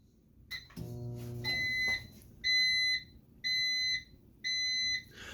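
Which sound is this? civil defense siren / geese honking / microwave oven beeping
microwave oven beeping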